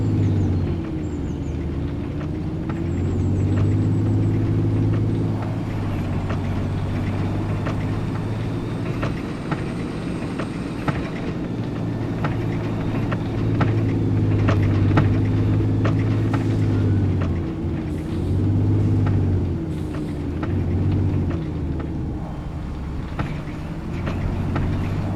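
A tractor engine drones steadily and loudly from close by as it drives through a field after a ford crossing, a continuous low rumble with slight pitch shifts and rattles throughout and no talking.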